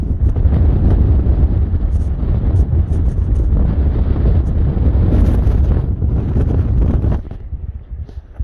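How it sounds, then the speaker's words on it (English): Strong wind buffets the microphone at the Grand Canyon in a loud, continuous roar that fills most of the clip, then eases off near the end. "It's way too fucking windy."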